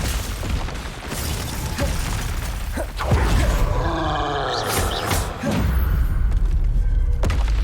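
Spell impacts in the video game Hogwarts Legacy, heavy booming thuds and shattering crashes over a constant roar of combat, with a voice calling out over them.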